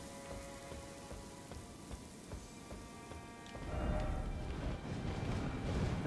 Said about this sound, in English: Rain ahead.